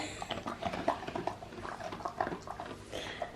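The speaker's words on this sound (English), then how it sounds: "the sound of dogs eating is just so relaxing" A dog named Cooper eats a birthday treat close by, with wet chewing, smacking and licking sounds in irregular bursts, moderately loud with no talk.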